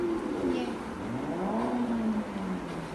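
Car engine in the racing video game Blur, a steady droning hum that slowly rises and falls in pitch, mixed with other game sounds at a moderate, even level throughout.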